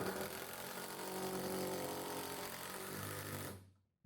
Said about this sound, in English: And this is the last screw on the back 2x4 on the back axle of the wagon.